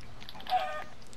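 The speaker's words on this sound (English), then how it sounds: "I found another chicken." A Minecraft chicken gives one short, faint cluck under quiet in-game background sound, with no talk.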